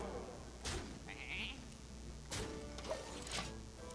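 Sheep bleats from the Hearthstone card game, a short nasal bleat heard faintly among game effects, with brief impact whooshes before and after.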